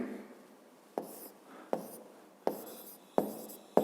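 A pen or pencil writes by hand on paper, with soft scratching strokes and several sharp taps as each mark is finished, close and quiet.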